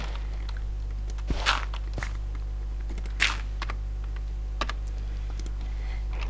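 Quick computer keyboard typing while writing a sign in modded Minecraft, with scattered soft clicks and a few louder key strikes over a steady low hum, no talking.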